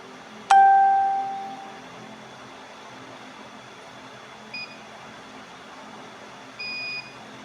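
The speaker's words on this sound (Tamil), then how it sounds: "இப்போ பாருங்க கை நம்ம கையை காட்டும்போது நமக்கு பஸ்ஸர் அலாரம் அடிக்கும்." A school-project sensor buzzer sounds once as a loud tonal beep that fades over about a second. Two faint short beeps follow later against a quiet hum.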